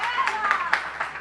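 A class claps for an arriving boss, a short run of scattered hand claps heard under voices talking in the room.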